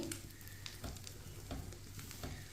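Sandwich bread frying in a pan on a stove over low heat, a soft steady sizzle with faint scraping and stirring, quiet and close.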